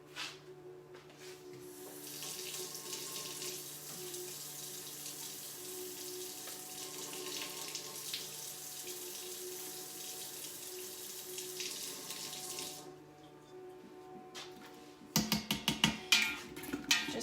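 A kitchen tap runs water into an Instant Pot holding chopped Honeycrisp apples, a steady close splashing stream lasting about twelve seconds before cutting off, followed by clattering handling noises.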